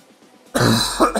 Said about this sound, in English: I'm just coughing up a little bit